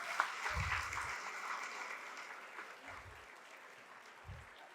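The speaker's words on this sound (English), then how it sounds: "let's give our panelists one more round of applause" Audience applause for conference panelists at an academic forum session, a steady crowd clapping throughout at moderate level, with a few low thumps near the start and end.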